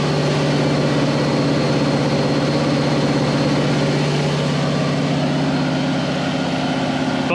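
A rebuilt Chevelle 402 V8 runs steadily just under 2,000 rpm, a loud, constant droning engine note heard up close with no breaks.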